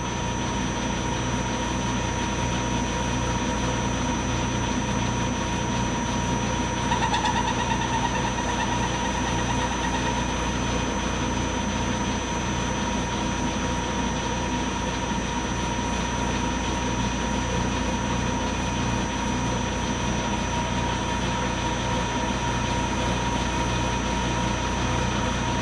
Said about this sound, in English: Running the lathe right at 600 RPM, probably a little slow, but it is what I am comfortable with.